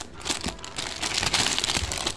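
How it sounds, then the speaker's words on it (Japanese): Someone handles a plastic bag while unpacking collectible gashapon capsule toys, giving steady, close crinkling and rustling that builds slightly over the two seconds. "ビニール袋。"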